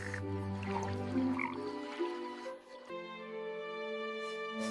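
A frog croaks from a well of water in a long, loud, tonal, rasping call that sustains over several seconds, shifting pitch once partway through, with no talk over it.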